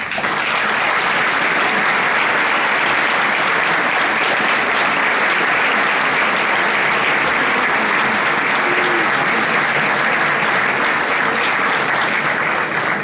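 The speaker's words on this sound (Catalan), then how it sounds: "demano un fort aplaudiment per estar així avui amb nosaltres" Dense, sustained applause from a concert audience at a band festival, steady and loud throughout with no break, filling the hall.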